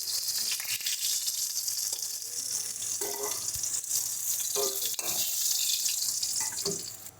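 A hilsa fish head fries in hot oil with a continuous bright sizzle and hiss. Occasional soft knocks of stirring or turning are heard, with no talk.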